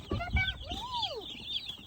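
Young broiler chicks cheep and chirp in short rising and falling calls while being set into a brooder, close and clear, with faint low handling noise.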